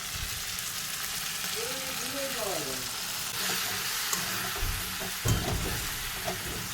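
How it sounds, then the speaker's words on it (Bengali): Chili and a mixed spice paste fry in a pan for a dried-fish curry, a steady soft sizzle with occasional stirring scrapes, fairly quiet and close, no talking. "এখন দেব লঙ্কা এখন গোলানো মশলাটা দিয়ে দেবো"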